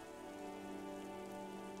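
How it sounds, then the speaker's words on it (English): Steady rainfall in the rainy city streets of the game Disco Elysium, a soft continuous wash with no distinct drops and no voices, fairly quiet over a low ambient drone. "Rain falls down on the world."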